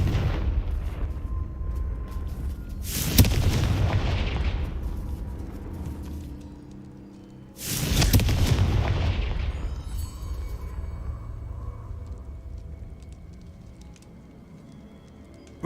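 Two powerful blasting-spell explosions from the Confringo charm in Hogwarts Legacy erupt a few seconds apart, each a loud deep boom with a long rumbling decay under faint ambient game sound.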